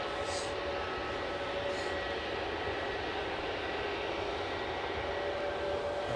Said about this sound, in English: our brand new British Airways A321 Neo